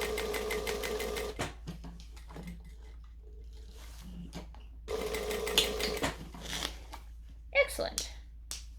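A sewing machine restitching undone seams on a fabric bag whirs in short bursts that stop and restart, with quiet gaps between them.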